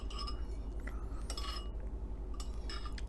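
A metal spoon clinks lightly against a dish while gravy is spooned onto turkey, with a few separate bright taps spread over a soft background hum.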